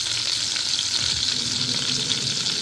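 Scotch bonnet chicken breast pan-searing in melting butter, a dense, continuous hissing sizzle, close and loud with no pauses and no voices.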